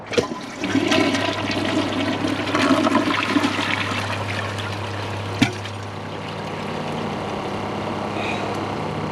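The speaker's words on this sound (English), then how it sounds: "Well, I'm going to hold down the handle, of course, because pressing and releasing, it's not going to do anything. But here's a flush." A 2015 Kohler Cimarron toilet flushes with its handle held down: a close, loud rush of swirling water under a low steady hum, with a sharp click midway, then easing into quieter refill gurgling.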